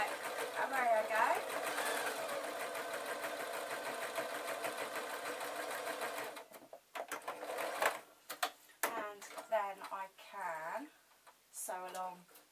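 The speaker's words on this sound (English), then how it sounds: "Sew along this bit." A sewing machine runs steadily and loudly for about six seconds, stitching fabric for a zebra puppet, then stops; after that, a voice talks in bursts against a quieter background.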